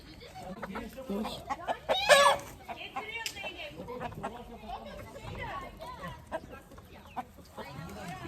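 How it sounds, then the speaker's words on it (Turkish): Chickens cluck and a rooster crows briefly amid people chatting nearby, with children's voices in the background. "En, en korktuğum hayvan tavuk."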